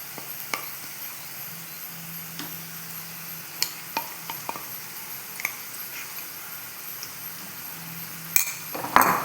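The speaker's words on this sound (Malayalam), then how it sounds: "അതുവരെയും നല്ലപോലെ ഒന്ന് വഴറ്റി കൊടുക്കാം" Ginger-garlic paste for pickle being sautéed in a pan, with scattered metallic clinks and scrapes of a spoon over a faint sizzle, louder clatter at the end.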